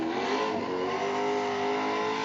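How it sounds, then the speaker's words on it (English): A 411 cubic inch small block engine revs hard and holds steady, high revs during a competition burnout. The engine drone is loud and continuous, with a faint rising pitch near the start, and no one talks. "It's a beautiful sounding engine. Keeps the revs nice and consistent right up there."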